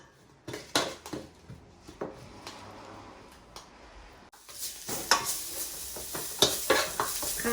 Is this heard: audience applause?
no